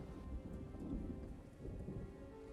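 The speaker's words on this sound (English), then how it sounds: "I just want the thunder to go away." Rain falls steadily in a video game storm while low thunder rumbles continuously underneath, a faint, even wash of sound with no voices.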